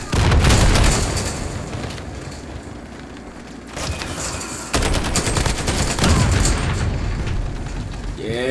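Dense gunfire from the Call of Duty video game on the Shipment map, rapid bursts of shots and booms stacked close together, loud and continuous throughout.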